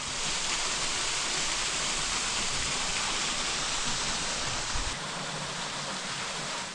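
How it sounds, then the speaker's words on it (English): Upper Falls waterfall at Hocking Hills State Park, Ohio, with a stone bridge over it, roars in a constant, loud, full rush of falling water that carries on without pause and without voices. "you'll get to see the famous waterfall with a stone bridge over top"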